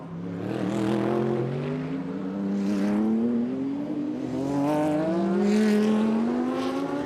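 DTM race cars lap the Norisring street circuit during a 2022 qualifying session, engines rising and falling in pitch through gear changes, loud and close as cars pass.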